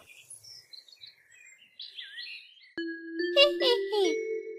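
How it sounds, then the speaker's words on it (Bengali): A small pet bird chirps indoors in a series of high, quick tweets, first faint and scattered, then a sharper run of calls alongside a voice and a brief ringing tone. "দেখি কি পাখি এনেছিস"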